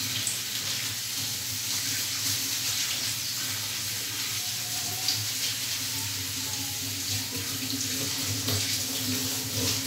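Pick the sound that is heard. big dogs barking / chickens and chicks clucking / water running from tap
water running from tap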